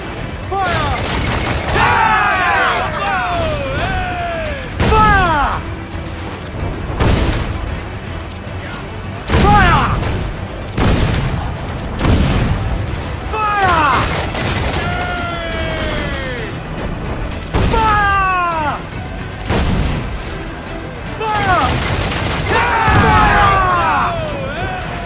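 Ship cannons fire broadside volleys in the pirate game Assassin's Creed IV Black Flag, loud repeated booms in irregular bursts among crashing impacts and battle noise, with voices shouting in between.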